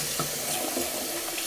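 A water tap runs steadily into a sink to fetch fresh water for watercolor painting, a close, continuous hissing stream that cuts off abruptly at the end.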